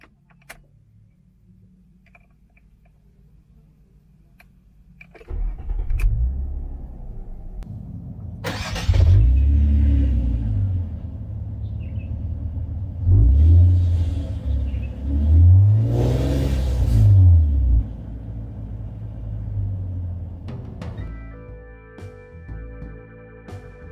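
A 2004 Nissan Teana 230JM engine cranks and catches, then settles into a steady idle broken by a few strong revs that swell and fall back, close up with no one talking.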